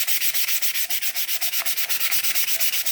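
Sandpaper rubs back and forth over a patch of wood filler on wood in a steady, rapid rhythm of loud, close, hissing strokes, with no voices.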